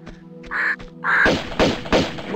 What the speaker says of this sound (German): Geier sind das, das sind Geier.